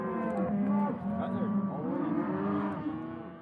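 Cattle moo repeatedly and loudly during a fall cattle drive on a ranch, several overlapping bellows from a herd close by, with no talk.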